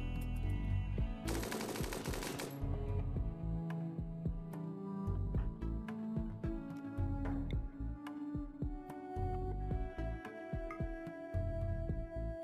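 Gunfire in the video game RimWorld, fought in an extreme desert setting: repeated sharp shots, some in rapid bursts, over steady tonal game music.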